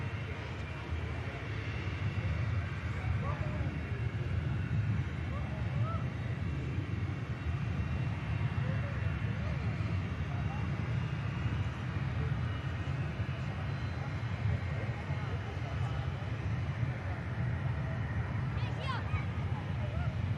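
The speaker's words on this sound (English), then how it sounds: "Here is the 321 Paris inbound." An Airbus A321neo inbound to Manchester Airport makes a faint, distant, steady low rumble that stays level for the whole stretch, with no talking.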